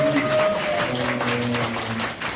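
Clapping from attendees at a national branch leaders' training gathering, a soft, even patter of applause over steady low tones from a held musical or electronic hum.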